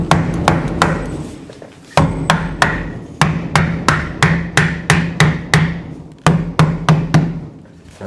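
A hammer drives a timber noggin between two uprights while a media wall is built, a long run of loud, close, sharp blows in quick bursts with brief pauses between them.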